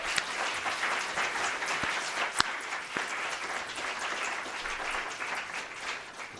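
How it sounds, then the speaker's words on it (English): An audience at a congressional hearing on water infrastructure gives a round of applause, a continuous patter of many hands with a few sharper individual claps standing out, even in level throughout. "So let's give everybody a round of applause."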